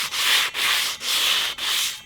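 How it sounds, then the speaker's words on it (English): Sandpaper rubbed by hand over a metal skateboard rail, four close, loud rasping strokes in a steady back-and-forth rhythm with brief gaps between them. "Let me quickly give you a demonstration on how fast even hand sanding is on this stuff"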